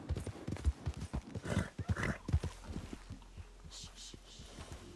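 A horse in the video game Red Dead Online gives soft snorts and a few faint neighs over steady clip-clopping hooves, with some talk mixed in.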